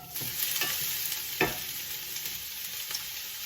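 Onions sizzling steadily in a hot pan for gumbo, with occasional scraping stirs, continuous crackle throughout and no voices.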